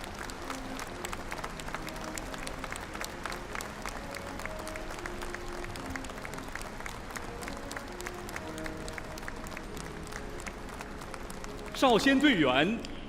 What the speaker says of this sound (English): let us salute all the July 1st medal recipients with a warm round of applause